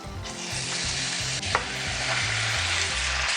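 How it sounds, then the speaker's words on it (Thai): Steady sizzling and crackling of pork belly searing in a hot pan with a little oil, close and continuous, with a faint clink partway through. "เราจะเอาหมู3ชั้นมาจี่ที่กระทะก่อนนะคะ"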